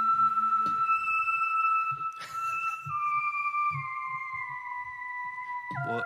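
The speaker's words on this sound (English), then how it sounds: "it's a solid whistle" A person whistles a long, clear melody of sustained tones that step down in pitch, with a brief noisy burst midway and soft low thumps underneath, close and fairly loud.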